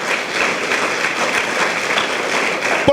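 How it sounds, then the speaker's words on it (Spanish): A church congregation applauds during a Spanish-language sermon, a dense, steady wash of clapping from many hands throughout. "Alguien déle un aplauso al Dios Todopoderoso."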